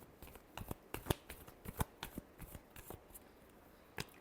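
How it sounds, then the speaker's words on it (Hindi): Tarot cards are shuffled in a quick run of crisp riffling snaps, about a dozen sharp flutters close to the ear over a quiet room, a pause, then one last snap. "last shuffle"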